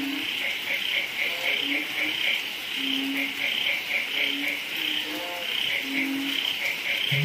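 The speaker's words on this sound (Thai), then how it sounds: "บรรยากาศดีๆเมื่อสักครู่นี้มีเสียงกบร้องมาเป็นระยะ" Frogs and toads from a pond beside a house croak intermittently at night after rain, with short low calls repeating against a constant high insect drone and soft background hiss.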